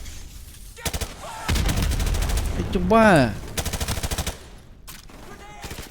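Rapid bursts of automatic gunfire in Call of Duty: Modern Warfare Remastered, loud and close, with a short sharp burst followed by a longer sustained volley and a few trailing shots, while someone talks and exclaims between the shots.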